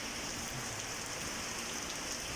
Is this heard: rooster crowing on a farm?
no